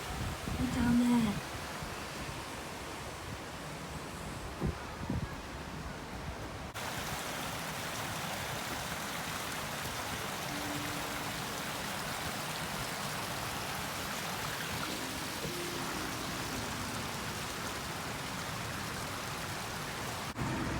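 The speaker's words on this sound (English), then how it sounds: "Look at that waterfall." Steady rushing water from a waterfall at Sequoia Lodge, a continuous broadband wash with a brief soft voice near the start.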